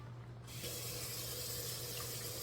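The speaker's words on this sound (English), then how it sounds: "Turn on some water." Kitchen tap turned on while cooking Southern chicken and dumplings, water rushing steadily into the sink after a brief quiet start, close and continuous with no talk.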